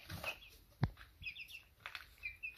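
Five-week-old chicks peep and cluck softly nearby in short, scattered calls, with a sharp knock or peck partway through.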